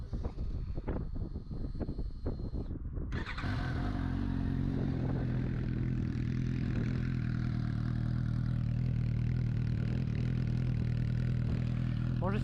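A Suzuki GSX-S 750 motorcycle with an aftermarket exhaust idles steadily and loudly up close with a deep, throaty burble, following a few seconds of clattering handling noises.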